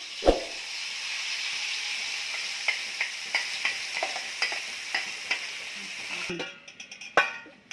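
Masala paste frying in hot oil in a pan. A soft, steady sizzle is broken by a sharp clatter at the start and a series of light spatula taps and scrapes, with more clattering near the end.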